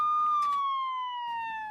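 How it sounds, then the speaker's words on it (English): An ambulance siren sound effect holds a steady, slowly falling electronic wail, loud and clean, with no talk. "The ambulance brings Alan Bono to Danbury Hospital, where he dies from multiple stab wounds a few hours later"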